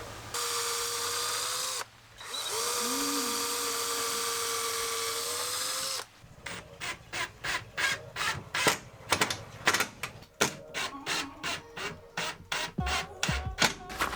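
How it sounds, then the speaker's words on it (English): A power drill driving screws into the wooden support frame of a sofa in a Sprinter van build: long steady whines, then a rapid run of short stuttering bursts, close and loud. "And screwing them in, and that's going to be the support for this sofa."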